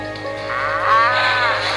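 Cows mooing in the Tornado iPhone video game, a single drawn-out synthetic moo rising and holding over a steady hum of game sound.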